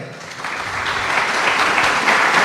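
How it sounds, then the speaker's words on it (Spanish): A crowd at a Social Media Day event breaks into applause, the clapping swelling from moderate to fuller and louder over a couple of seconds, with no voices rising over it. "Un aplauso para ella."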